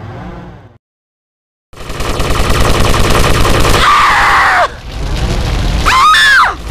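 Dense rapid gunfire crackles loudly in GTA Vice City Stories, a continuous burst of shots after a brief silence, mixed with shrill whining and screeching game effects near the end.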